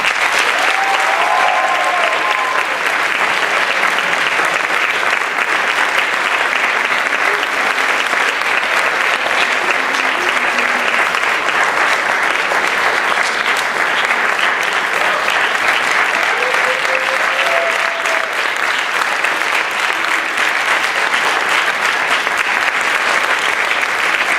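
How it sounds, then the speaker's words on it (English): A large audience gives a long, loud round of applause at a marching band awards event, dense and sustained clapping with faint whistles and cheers mixed in. "let's give them one big round of applause"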